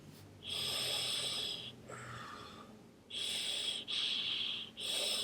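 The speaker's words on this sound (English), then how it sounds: "if I open this completely, I can breathe through it." An iJoy vape tank with its airflow slots fully open is drawn on in several long, close, airy inhales. Each pull gives a hissing, wheezy rush of air, with short pauses between breaths.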